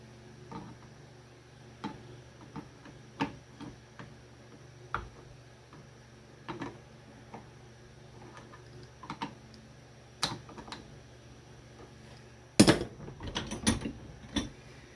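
A wrench tightens a transmission oil level sight glass on an LS MT125, making sparse, quiet ratcheting ticks and clicks, then a louder cluster of metallic clicks near the end.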